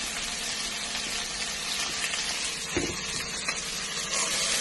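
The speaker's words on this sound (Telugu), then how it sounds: "బాగా ఫ్రై అవనివ్వడమేనండి, అంతే, సింపుల్." Ivy gourd curry frying in a pan, a dense continuous sizzle heard up close and alone, with a faint stir or scrape near the middle.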